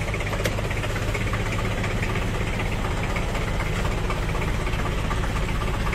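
A 2002 Daihatsu Taft Hiline 4x4 pickup engine idles steadily and smoothly up close, a constant low rumble with an even, unchanging rhythm.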